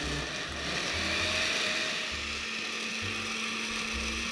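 A kitchen blender beats carrot cake batter made with refined sugar, giving a steady, close motor whir with a rhythmic chopping pulse and no talk.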